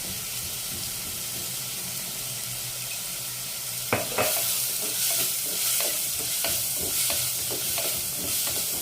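Onions with turmeric and salt fry in a clay pot for mutton gravy curry, a steady low sizzle that turns into clattering stirring strokes partway through, close and rhythmic, with no voices.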